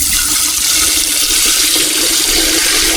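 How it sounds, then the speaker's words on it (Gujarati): Tap water runs steadily into a bowl as it is filled to wash aquarium gravel, a loud, continuous rushing pour close by with no voices. "આમાં થોડુંક પાણી ભરીને આ બાકીના ગ્રેવલ છે એ સાફ કરી નાખીએ."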